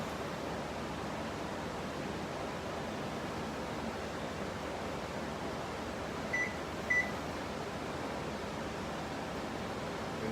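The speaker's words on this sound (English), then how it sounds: "I will turn on the oven." A kitchen oven running as it warms up gives off a steady, even hum, with a couple of faint short beeps partway through.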